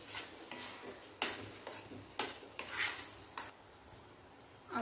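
Moong dal halwa cooking down in ghee in a pan, stirred with a spoon in several distinct scraping strokes over a soft, steady sizzle, close and fairly quiet.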